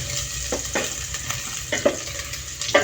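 Cooking oil with garlic sizzles steadily in a pan as rice porridge is prepared, a constant close fry hiss broken by several soft scraping stirs and small clinks, with no voices.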